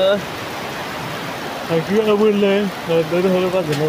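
Steady storm rain patters in the background while a person speaks over it partway through.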